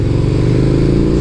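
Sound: KTM Superduke 1290 R motorcycle accelerating in second gear

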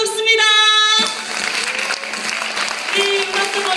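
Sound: audience applause

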